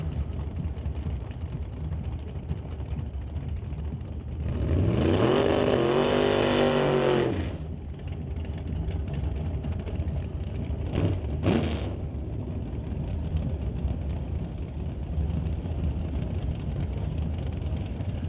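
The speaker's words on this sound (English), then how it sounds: "completing the burnout this time by was Emily Gerard in the dragster" A dragster at a drag race event does a burnout, a loud rising scream lasting a few seconds over constant background rumble, followed by a brief sharp second burst and continued engine noise at a distance.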